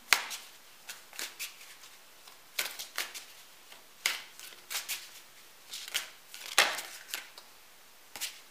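Tarot cards being shuffled by hand during a reading, a quiet series of crisp papery riffles and snaps in uneven bursts, close and soft, with no one talking.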